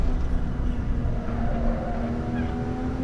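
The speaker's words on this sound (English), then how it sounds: "you can see how the blipping system increase the throttle when you downshift" A racing sim car engine, paired with a Moza HGP shifter using automatic downshift throttle blips, drones steadily and loudly with a constant tonal hum and little variation throughout.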